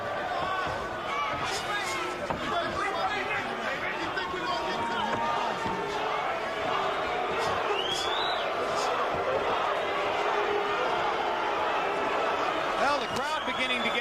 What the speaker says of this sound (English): the crowd beginning to get a little restless out in the expensive seats